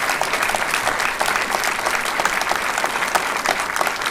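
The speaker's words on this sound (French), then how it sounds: "je pense qu'on peut l'applaudir" An audience at a talk with Paul Jorion breaks into sustained applause, dense even clapping from many hands with no voices.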